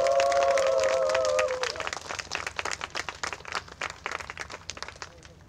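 An outdoor audience at a Korean peace-ceremony event applauds after a traditional crane dance performance. A brief sustained tone fades out first, then scattered, moderately loud clapping follows and gradually thins.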